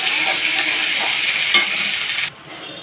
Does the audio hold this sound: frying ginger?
yes